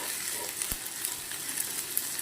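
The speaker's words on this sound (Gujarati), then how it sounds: "એની કચાશ દૂર થઈ જાય ત્યાર સુધી આપણે આને સાંતળી લેવાનું છે." Vegetables sautéing in a pan for fried rice hiss with a soft, even sizzle, with a single sharp knock near the start and faint crackles throughout.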